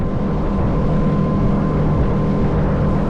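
The outboard motor of a Fin Chaser 800HTWA boat runs steadily with a deep, rumbling drone, constant and fairly loud throughout with no voices.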